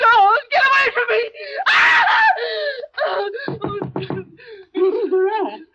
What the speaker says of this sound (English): Why were you screaming?